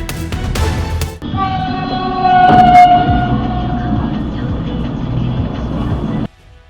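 A train horn blares loudly over heavy rumbling as a train bears down on a car at a railway crossing, with a sharp bang midway as it strikes the car before the noise abruptly cuts off.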